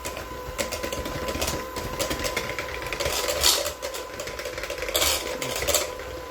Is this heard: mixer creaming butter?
yes